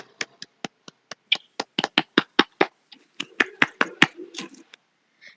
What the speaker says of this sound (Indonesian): Beri tepuk tangan kepada Ilham dan kelompok 1.